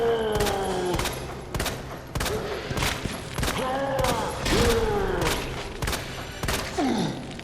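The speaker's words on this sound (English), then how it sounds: "Keep firing." Repeated gunshots in Resident Evil, Leon's hardcore playthrough, sound in close, loud bursts with short gaps, over in-game grunts and creature cries and mechanical reload clicks.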